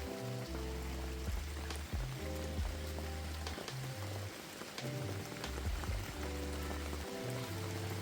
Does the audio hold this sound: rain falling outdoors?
yes